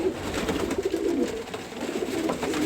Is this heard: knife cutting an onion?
no